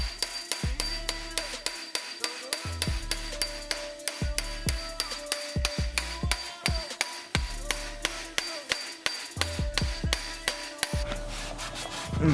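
Rhythmic, scratchy strokes scrub grime from the inside of a car suspension coilover part on a Focus ST, with sharp knocks and clinks in between, steady and close.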